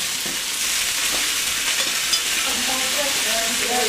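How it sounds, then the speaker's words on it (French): Sliced onions sautéing in a pan for tartiflette give a steady close sizzle with occasional stirring scrapes, continuous for the whole stretch with no talking. "On va les faire revenir avec une petite coloration."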